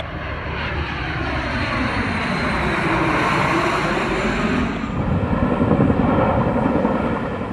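Firefighting aircraft, helicopters and air tankers working a southwest Oregon wildfire, produce a loud, continuous engine drone that swells and holds steady throughout, with no talk.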